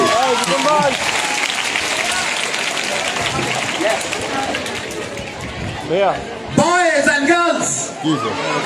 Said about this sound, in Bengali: তাদের জন্য একটা আবার জোরে করতালি